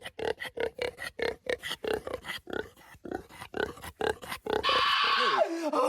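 A pig grunts and oinks in a quick run of short, loud, rhythmic bursts, then gives one sustained higher squeal at the close, standing alone with no talking over it.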